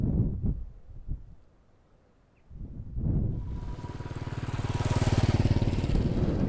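A Royal Enfield motorbike approaches and passes, its rhythmic low engine thumping growing louder after a few thuds and a quiet lull.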